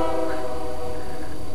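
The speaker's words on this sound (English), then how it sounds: "There's a train coming, if you didn't notice." A train's horn sounds in one loud, continuous blast close by, with rumbling rail noise beneath it.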